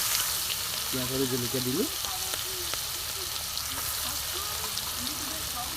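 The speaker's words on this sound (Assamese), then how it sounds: "এতিয়া দিম ইয়াত পিঁয়াজ আৰু জলকীয়া" Onions and green chilies with whole mustard seeds fry in mustard oil in a village kitchen, making a loud, continuous sizzle heard close up, while a person speaks briefly near the start.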